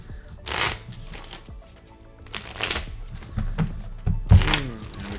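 A deck of Hubworld Aidalon game cards is shuffled close up in several loud riffling bursts with thumps in between, recorded during a practice match, with no talking.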